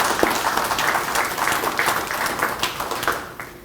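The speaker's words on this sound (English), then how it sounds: "let's give Austin a round of applause for his hard work" A crowd at a grant presentation applauds steadily for a few seconds, a dense patter of many hands clapping at moderate volume that fades toward the end.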